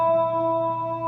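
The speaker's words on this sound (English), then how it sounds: "So you can hear that there's quite a bit of chorus in there now." An electric guitar played through a chorus pedal holds a sustained chord, its steady ringing tones shimmering gently, moderately loud with no talking.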